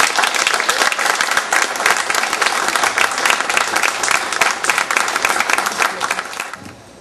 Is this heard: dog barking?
no